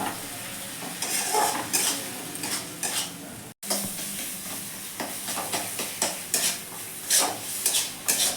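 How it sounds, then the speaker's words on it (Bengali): Masala with turmeric and salt frying in a pan for a tuna fish curry, a constant sizzle overlaid with repeated scraping and clinking of a spoon stirring against the pot, briefly cutting out once midway. "এবার আমি এর মধ্যে হলুদ দিয়ে নিচ্ছি স্বাদ মতো নুন দিচ্ছি দিয়ে আমি মশলাটাকে ভালো করে কষিয়ে নেব"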